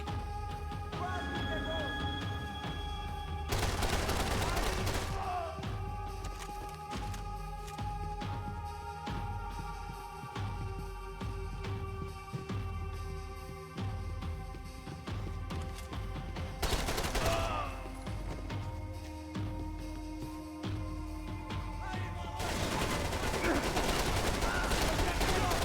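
Gunfire from an RPD machine gun in the video game Max Payne 3 comes as repeated bursts of rapid shots amid game noise. Someone talks intermittently over the action.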